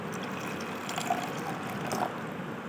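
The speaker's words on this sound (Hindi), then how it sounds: "इसके बाद आप फिर जो ये पानी है एक खाली जार में डाल देंगे" About 100 ml of water is poured into an empty jar during a classroom lesson on measuring liquids, a faint, quiet trickle and splash close by with no talking.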